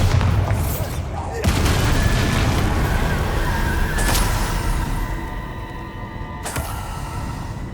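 A Bombarda blasting spell explodes during a Hogwarts Legacy fight, a few sharp blasts and booms punctuating loud continuous combat noise, with a voice speaking over the action.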